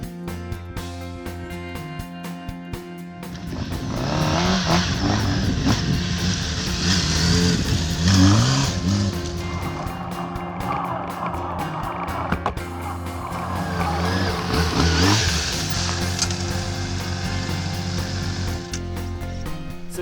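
A Honda CBR600RR motorcycle riding on an open road, its engine note rising and falling through two long surges, with steady wind and road noise throughout.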